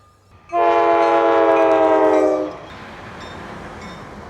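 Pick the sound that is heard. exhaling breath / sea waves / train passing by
train passing by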